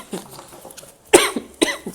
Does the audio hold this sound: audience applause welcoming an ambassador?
no